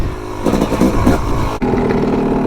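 A Yamaha YZ250 two-stroke dirt bike engine revs up and down close by, small and high-pitched, buzzing and sputtering with a brief dip before climbing again, no voices.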